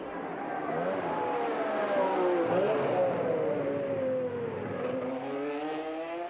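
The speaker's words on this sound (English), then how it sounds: "26 cars roared off at the start of the 43rd Italian Grand Prix" Twenty-six racing cars roar off the start line of the 43rd Italian Grand Prix in a dense, sustained engine howl with rising and sliding pitch, holding loud and steady throughout with no talk.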